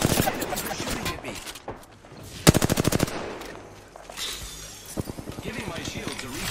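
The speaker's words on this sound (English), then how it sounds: "Enemies are shooting at me." Rapid bursts of enemy gunfire in a video game, loud automatic volleys with sharp rat-a-tat strings and single shots, mixed under a player's voice.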